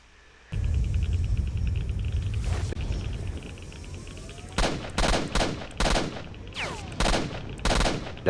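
Gunfire in Stalker: Shadow of Chernobyl, with a sustained low rumble followed by a rapid series of sharp, loud shots in bursts and reverberating tails, alone without talk.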